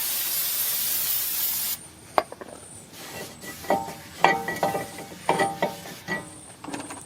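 Brake cleaner sprays onto a front brake rotor of a 2011 Chrysler Town and Country, a loud, steady hiss lasting nearly two seconds, followed by scattered metallic clicks and handling noises.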